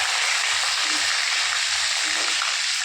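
Cumin seeds and green chili sizzle in hot oil with a bright, continuous crackling hiss that stays close and loud from start to finish.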